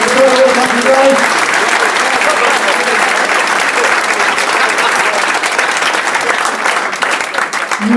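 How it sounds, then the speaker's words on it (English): Loud, sustained applause from diners at a football club Q&A evening at Blundell Park, a dense wash of clapping that fills the room, with a brief voice underneath near the start. "Give a nice big round of applause to Lisa and the team"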